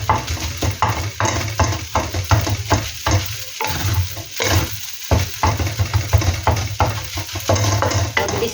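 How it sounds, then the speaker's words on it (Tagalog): A spatula scrapes and stirs chao fan fried rice in a hot pan in quick, repeated strokes over a steady sizzle, close and clear with no talking. "Haluin na po natin."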